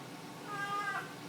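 A pet cat gives a single short, faint meow with a slightly rising, drawn-out tone, heard close by in an otherwise quiet indoor room.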